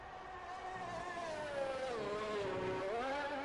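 Racing motorcycle engine in a racing video game, glitched and stuck revving at 13,000 rpm: a steady, high buzzing whine that wavers slightly in pitch, continuous and fairly quiet, with no voices.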